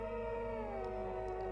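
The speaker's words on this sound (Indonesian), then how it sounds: "Jika tengah malam terdengar suara anjing menggonggong seperti serigala" A dog howls long and drawn-out like a wolf in the middle of the night, one sustained wavering wail that holds steady and close throughout.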